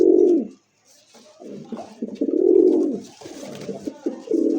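Caged pigeons coo close by in a series of low, rolling bursts with brief pauses, loud and clear with no talk.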